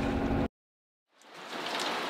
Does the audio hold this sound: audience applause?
no